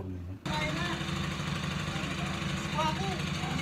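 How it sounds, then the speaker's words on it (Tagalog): A homemade grass cutter engine starts after a brief quiet moment and settles into a loud, steady, rough small-engine run, close by, with a voice speaking over it. "Para mapaandar na natin at matest drive na itong ating grass cutter project."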